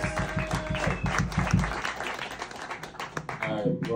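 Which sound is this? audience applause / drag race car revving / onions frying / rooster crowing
audience applause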